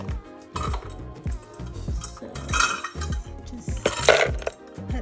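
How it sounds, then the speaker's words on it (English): Cashews poured into a Vitamix blender jar make a run of hard little clinks and rattles, with a few louder clattering bursts partway through, close and with no talking. "next we're going to put about 3/4 worth of cashews into the blender."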